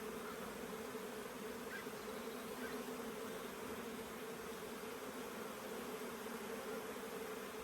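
A dense crowd of honeybees drones steadily on a brood frame from a queen-rearing hive, a constant close buzzing hum that never lets up, with no voices.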